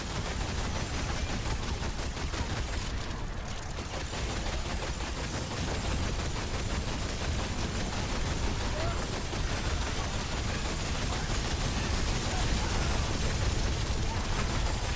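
Rapid gunfire from a weapon in the video game Remnant 2, a dense and continuous stream of fast shots and impacts running the whole time, with faint talk mixed in at points.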